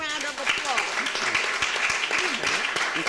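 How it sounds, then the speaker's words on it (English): An audience at a theatre-history talk applauds an honoured guest, a continuous clatter of hand claps carried through the whole moment with a voice speaking over it at the start. "let's give him a round of applause."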